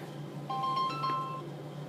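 A phone rings with a bright electronic ringtone, a short melodic burst over a low background hum, moderately loud and nearby.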